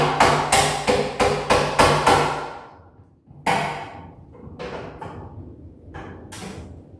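A flathead screwdriver taps out a knockout piece for an electrical cable connector. A quick run of six sharp, ringing taps comes first, then a pause and several scattered, duller knocks, all close.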